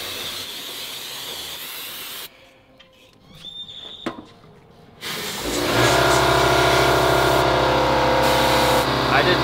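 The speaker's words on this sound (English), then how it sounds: "get all this off with the sandblaster" Sandblaster blasting the rust off brake caliper brackets from a Mazdaspeed3 during a brake upgrade: a loud, steady hiss and roar that stops briefly in the middle, then returns louder and constant.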